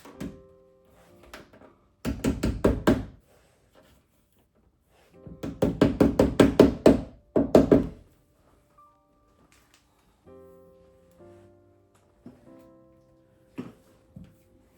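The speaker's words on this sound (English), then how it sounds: "I'm just gonna tap it with the hammer" A hammer taps a Subaru OEM metal door edge guard onto a car door in two quick rhythmic bursts of sharp knocks, then scattered single taps, close by with quiet pauses between.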